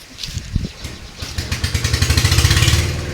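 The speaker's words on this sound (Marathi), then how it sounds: "आपलं कुटी मशीन जे आहे ते चालू झालं आहे चारा कुटी करायला" A chaff cutter starts up on a farm to chop fodder. Its engine catches with a few irregular bursts and then settles into a fast, loud, rhythmic pulsing that keeps building.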